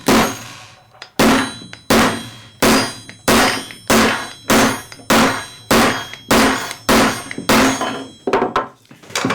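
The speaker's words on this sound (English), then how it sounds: "Or you can take an awl and really go to town. Just start hammering like crazy here." An awl is hammered through a silver spoon in about a dozen sharp metallic clangs at a steady rhythm, each ringing briefly before the next, loud and close with no voices.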